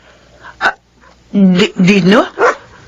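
An angry dog barks in several loud, close bursts, some of them overlapping a person's voice in a Filipino drama scene.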